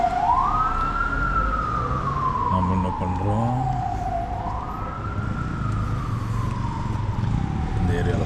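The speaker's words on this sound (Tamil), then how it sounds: "பார்த்தியா போனோன்னு ஆம்புலன்ஸ் வரும்." A wailing ambulance siren on a Bogota street sweeps up and down in two long cycles, loud and steady over continuous traffic noise, with someone speaking briefly partway through.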